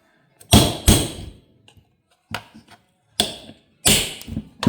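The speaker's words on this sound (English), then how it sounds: "See if we can't drive them out with a punch and a hammer." A hammer strikes a punch to drive out rivets on an old vehicle, giving sharp metallic taps close by. They come in irregular clusters of one or two hits separated by short quiet gaps.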